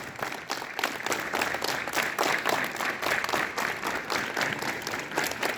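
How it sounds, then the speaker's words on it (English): Students at a school assembly clap together in a fairly even, sustained burst of hand claps, moderately loud and continuous with a roughly rhythmic pulse throughout. "Clap together."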